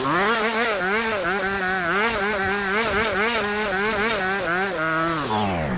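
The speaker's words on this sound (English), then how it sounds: "hang on, I'm busy trying to wheelie here." A motorcycle engine held loud and close during wheelie practice in first gear, its revs rising and dipping in quick waves as the throttle is worked, then steadying and easing off at the end.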